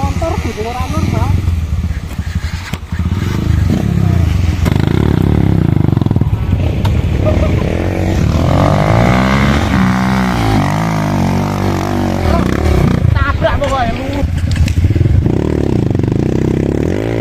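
Motorcycle revving and straining on a difficult track at a charity event, engine pitch rising and falling in repeated surges with clattering and scraping, while people talk over it.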